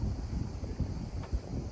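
Steady wind buffets the microphone outdoors in a mountain valley on North Evia island, Greece, a continuous low rumble with gusty swells throughout.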